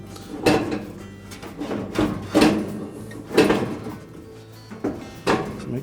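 A GE dryer drum is pushed back into its cabinet during a drum bearing sleeve repair, giving repeated hollow metallic thumps and scraping knocks, five or six separate bumps spaced about a second apart and heard up close.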